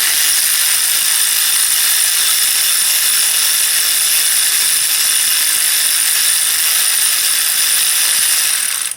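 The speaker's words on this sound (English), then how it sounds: "I've got a 5/8 spark plug socket on there. I'm going to break torque and then just spin this out." A battery-powered ratchet with a 5/8 spark plug socket spins out a spark plug on a Hyundai Kia 3.3L V6, a loud steady whirring buzz held for about nine seconds and cut off abruptly, with no talking.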